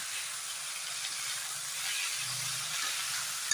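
Morapat leaves fry in a hot pan, giving a steady, close broadband hiss and sizzle that holds evenly for a few seconds with no voices.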